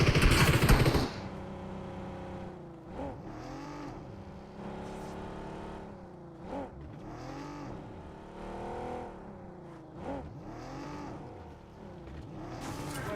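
A car in a battle royale video game engine revs and drones in repeated rising and falling sweeps, with a loud burst at the start and steady motor sound alone throughout.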